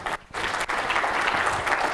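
A conference audience applauds throughout, a dense, sustained wash of clapping from a room full of people, with a brief dip early on before it swells again.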